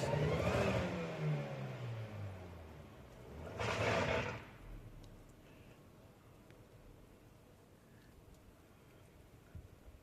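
A car stuck in snow during a UK snowfall revs its engine hard in two loud bursts, one at the start and another a few seconds later. Between and after them it settles to a quieter idle under an outdoor hush.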